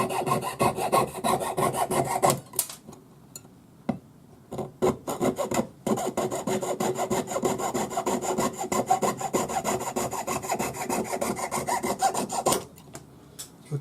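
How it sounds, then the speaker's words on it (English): A turquoise nugget ring held on a clamp being sawed and then worked with a flat hand file, a steady close rasping stroke rhythm with a few short pauses, alone without talk. "And that way I can saw and file right on the clamp."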